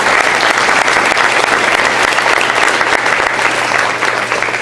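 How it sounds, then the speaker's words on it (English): Steady, loud applause from an audience at a high school orchestra parents' meeting and BBQ concert, a dense unbroken wash of many hands clapping together for the full length with a faint low hum beneath. "So I'd like to just give a round of applause"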